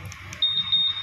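A Honda PCX160 scooter's anti-theft alarm, set to its loud level, beeps shrill and high-pitched in rapid, almost unbroken pulses over a low background rumble.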